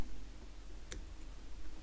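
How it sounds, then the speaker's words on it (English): Scissors cut the thread tag while a feathered treble hook is tied for a topwater bait: a single short, crisp snip, close and quiet, against a low background hum, with no talking. "And then I'm just going to take my scissors and I'm going to cut this little tag off."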